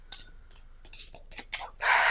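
Tarot cards being shuffled by hand during a reading, giving a run of short papery riffles and rubs in quick bursts, close and fairly quiet, ending in a louder sustained riffle with no talking.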